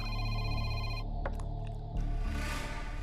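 A telephone rings with a steady electronic bell tone for about a second, then cuts off into a dense, loud background mix in a dubbed action film scene.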